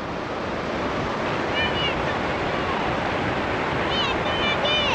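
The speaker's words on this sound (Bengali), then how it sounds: "শান্ত সমুদ্রের আওয়াজ, মিষ্টি ঢেউয়ের আওয়াজ" Calm sea waves roll onto the evening shore at Tajpur beach in a steady, close wash of surf, with some wind over it and faint high chirps here and there.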